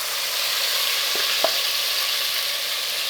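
Chicken sizzles and fries in a hot steel pan, a steady loud crackling hiss throughout with a couple of brief stirring clicks partway through and no talking.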